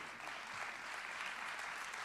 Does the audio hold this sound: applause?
yes